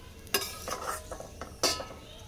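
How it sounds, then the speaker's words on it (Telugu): Dry fruits frying gently in a pan over a low flame, with a soft sizzle under several sharp scrapes and clinks of a spoon stirring against the metal. "డ్రై ఫ్రూట్స్ని ఇలా చిన్న మంట పైన వేయించుకోవాలి"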